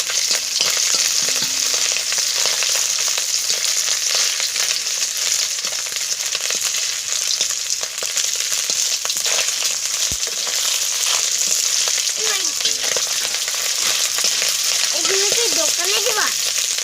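Fish sizzles steadily in hot oil in a pan, a dense and continuous frying hiss close by, with a faint voice near the end, outdoors in a riverside village home by the Teesta river chars.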